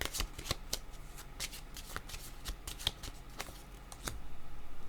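Tarot cards are shuffled and drawn by hand, crisp riffling flicks and slaps coming in quick irregular bursts close to the listener.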